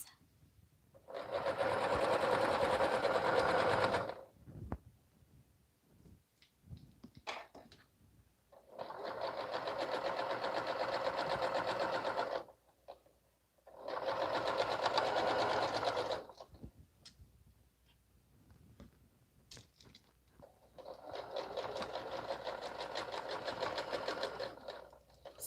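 A sewing machine stitches a minky baby blanket in four loud, close bursts of rapid mechanical whirring, each a few seconds long, separated by near silence.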